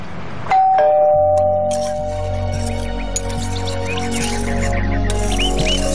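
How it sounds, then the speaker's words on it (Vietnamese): A doorbell rings once with a bright electronic chime, close and loud, then fades under a low room hum and a few faint chirps. No one speaks. "Bấm chuông cho người ta mở cửa."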